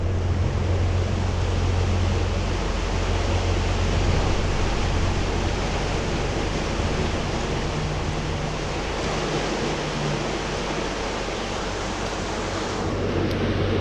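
Broadband rushing roar of a high, fast-flowing mountain river in the Alberta Rockies during June runoff, steady and close throughout with no talking.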